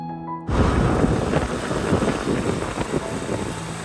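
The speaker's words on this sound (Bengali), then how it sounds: "বাইকও অন হয়ে গেল" A motorbike starts and rides off, its engine rumbling loud and close in a continuous low roar mixed with wind buffeting after a quiet beginning.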